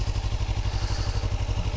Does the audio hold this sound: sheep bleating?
no